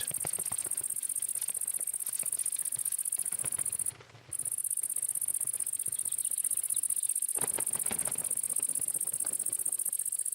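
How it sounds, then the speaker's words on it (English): A cricket chirping in the wild in Germany, sharp repeated bursts over a steady high insect drone that drops out briefly midway. "A kestrel has spotted a cricket."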